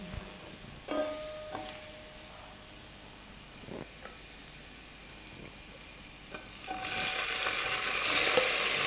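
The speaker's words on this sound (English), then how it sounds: "So the oil was hot, so the garlic has already browned." Garlic browning in hot oil for a Kenyan coconut pigeon pea dish gives a faint, steady sizzle with a few utensil clicks, and the frying swells into a louder, brighter hiss near the end.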